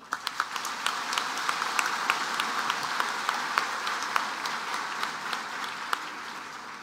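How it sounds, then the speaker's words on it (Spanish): Steady applause from an audience at a coffee growers' committee event honoring women coffee growers, with dense clapping and a few sharper individual claps standing out, holding even for several seconds. "Un aplauso para la mujer cafetera."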